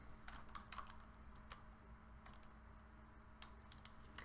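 Keys clatter in short bursts as someone types on a computer keyboard, the clicks close and crisp over a quiet background hum, with gaps between the runs of keystrokes.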